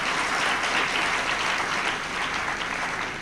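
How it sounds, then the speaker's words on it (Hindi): Steady applause from a gathered audience at a spiritual talk, dense and continuous clapping throughout with no speech over it. "ताली बजाना तो बजाओ"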